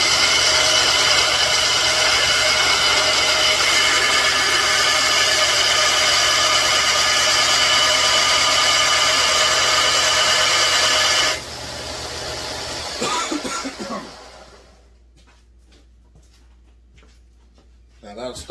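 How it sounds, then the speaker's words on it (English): A Husqvarna 372 chainsaw crank bearing is held against a running bench sander to thin it, giving a loud, steady grinding whine for about eleven seconds before it winds down and tails off into quiet clatter. "I'm going to go over and hit it on the sander right quick, just to thin it down a little bit"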